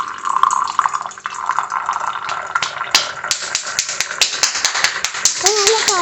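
Blue butterfly pea flower tea is poured into a glass with a trickling, splashing flow and a few drips, close by under a person talking.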